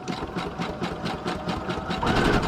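Close up, a sewing machine stitches a narrow zigzag on paper, giving a quick, rhythmic needle clatter with a steady motor hum that swells slightly toward the end.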